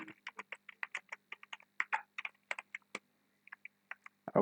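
Quiet, crisp typing on a computer keyboard during a MATLAB session, a steady run of individual key clicks with brief pauses, ending in a heavier keystroke, with no talking.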